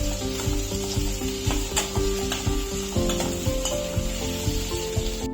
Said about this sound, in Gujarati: કેરી એડ કરીને મીડિયમ ફ્લેમ પર એને થવા દઈશું.